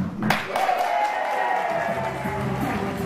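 An audience at a motivational seminar applauds, a dense patter of clapping that swells at first and then tapers under a voice amplified over the crowd.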